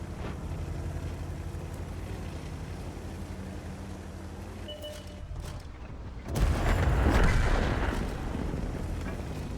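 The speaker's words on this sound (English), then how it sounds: "Artie was shooting from here" Artillery fire in World of Tanks, a low rumbling battle ambience with a heavy boom around the middle that swells into a loud roaring blast before settling back.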